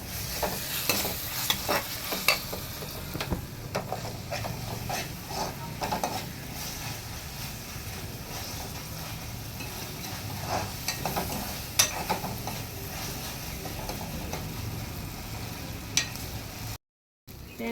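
Ginger-garlic paste with turmeric frying in oil in a pan for mutton curry, a steady sizzle under frequent scraping stirs of a spoon against the metal, close and continuous.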